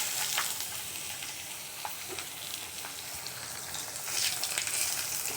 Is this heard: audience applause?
no